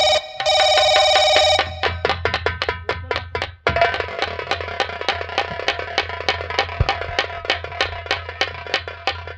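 A telephone rings during a Fatehpur nautanki folk-theatre performance staged as a jail scene; a steady electronic tone opens, then a fast run of sharp repeated rings continues clearly through the rest, with no talking.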